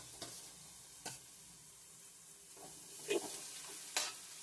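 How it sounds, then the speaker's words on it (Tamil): Beetroot is stirred into softened onions in a pan, producing a faint, quiet sizzle broken by several sharp scraping stirs and clinks of the spoon. "ஸ்லோ பண்ணிட்டு காய் இதில் கொட்டி நல்லா கிளறி விடணும்."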